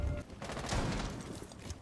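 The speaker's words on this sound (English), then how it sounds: "Oh, he's shooting." Rapid gunfire in an online shooter video game, a fast burst of game shots running steadily through the whole moment at moderate level with no talk over it.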